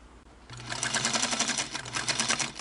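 A Singer 221 Featherweight sewing machine stitches through a couple of layers of cotton on a longer stitch, starting after a brief pause and then running as a steady, close, rapid mechanical whir.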